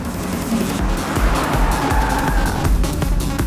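A car being driven fast along a road in a Hindi-dubbed South Indian movie, giving a continuous low engine rumble and road roar that swells and dips slightly, with no one talking.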